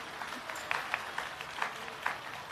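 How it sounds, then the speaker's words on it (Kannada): A crowd at a live concert during the Bengaluru Ganesh Utsava claps in a moderate, fairly distant round of applause, with a few sharper individual claps standing out from the steady patter. "ಜೋರಾಗಿ ಚಪ್ಪಾಳೆ ಆಗಬೇಕು"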